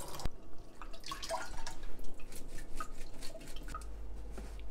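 Cold water runs over thawing shrimp in a colander, a close, continuous trickle and splash with scattered drips and faint clinks. No one speaks.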